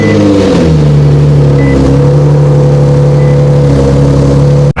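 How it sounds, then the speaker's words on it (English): A Nissan 370Z engine runs steadily at a mid-range rev after starting, its strong, even drone holding for several seconds before cutting off abruptly at the end. "I'm going to start the car up and see if it comes back"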